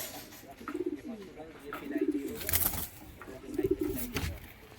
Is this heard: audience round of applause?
no